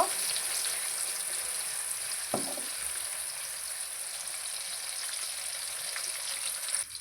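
Biryani ingredients fry in a pan until deep red, heard as a soft, even sizzle close by with one brief clack partway through.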